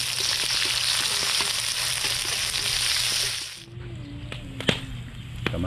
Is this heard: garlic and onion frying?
yes